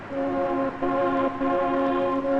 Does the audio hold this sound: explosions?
no